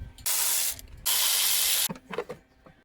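Socket ratchet loosening 10mm nuts on a Toyota RAV4 valve cover, two bursts of fast close clicking, the second longer, followed by a few softer metallic handling sounds.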